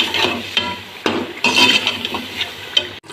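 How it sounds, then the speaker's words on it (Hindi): Ginger being stirred into mutton frying in a pan, with repeated scraping and clinking strokes of a spoon against the metal over a steady sizzle, close and fairly loud. "अदरक डालने के बाद इसको 2-4 सेकंड के लिए हम ऐसे मिक्स करेंगे"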